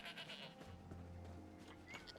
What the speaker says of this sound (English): Hello there, sheep. They still refuse to talk.